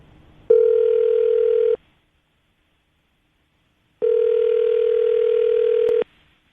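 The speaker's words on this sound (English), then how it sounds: "We're going to give her a call right now, see if we can get her on the phone" A telephone line gives two long, steady tone bursts separated by a pause of silence, clear and close, as a call is placed to a radio show guest.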